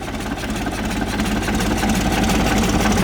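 A Hino Profia truck's P11C diesel engine of 320 horsepower idles with a loud, steady, close chugging drone that holds an even rhythm throughout, with no voices over it.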